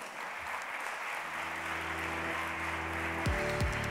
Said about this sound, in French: j'appelle Antoine Jourdain, que l'on peut applaudir